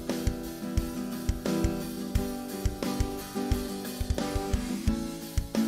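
A quickly programmed fake drum preset in Ableton and Reason drives a regular rock pattern of kicks and snares over sustained guitar chords, with a double bass-drum fill, loud and steady throughout.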